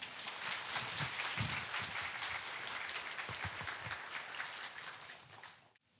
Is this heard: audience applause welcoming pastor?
yes